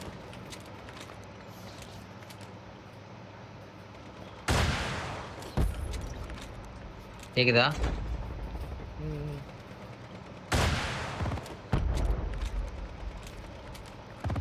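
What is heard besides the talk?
gunfire in Call of Duty Mobile video game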